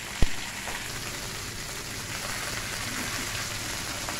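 Fish and potatoes frying in a pan with taro, beans and tomato nearby, a steady dense sizzle like light rain throughout, close and even, with one sharp clack near the start and no talk.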